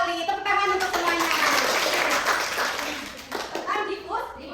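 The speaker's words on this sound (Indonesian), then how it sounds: "Tepuk tangan untuk semuanya" Classroom applause for students during a biology lesson, a dense burst of hand clapping mixed with children's voices, fading out toward the end as speech resumes.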